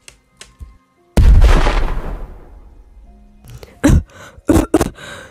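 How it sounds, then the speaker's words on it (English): A loud explosion bursts inside a building in a cartoon-style comic dub, its roar and rumble decaying over a couple of seconds, followed by several sharp impact bangs. "They set off an explosion in the building."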